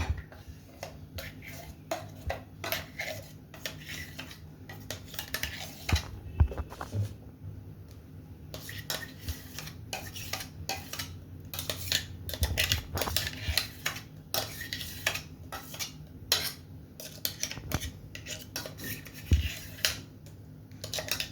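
Ground rice and soaked black gram lentil batter are mixed together in a bowl, producing quiet, rapid ticking and clicking of a spoon or utensil against the container in irregular bursts, faint and close, no voices.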